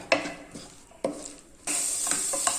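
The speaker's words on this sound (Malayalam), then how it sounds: "ഈ പൊടികളുടെ ആ ഒരു പച്ചമണൊക്കെ പോണ വരെ ഒന്ന് വഴറ്റി കൊടുക്കുക" Spice powders and chicken masala sautéed with vegetables in a pan for instant noodles, two sharp spoon knocks against the pan, then a louder steady sizzle with light stirring scrapes, close and without talking.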